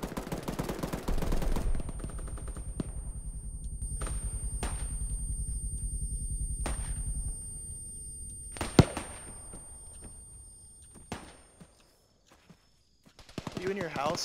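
Gunfire from the military shooter ARMA 3: a sustained rapid stream of automatic shots followed by scattered sharp single cracks and short bursts, some close and loud, with a brief quiet gap before the noise returns.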